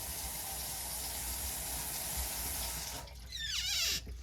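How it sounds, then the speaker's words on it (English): Hot water runs steadily from a kitchen sink tap in an apartment, a broad close hiss that lasts three seconds, then stops abruptly as the supply is shut off, leaving a brief squeaky valve sound. "So let me turn on my sink to demonstrate. This is hot water."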